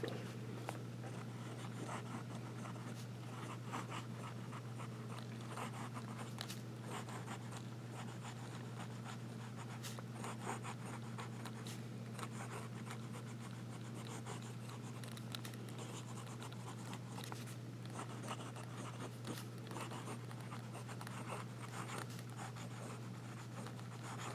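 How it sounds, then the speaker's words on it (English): Jinhao Dragon King fountain pen nib scratching steadily across paper, a faint, close, continuous writing scratch over a low steady hum. "Let's do some writing."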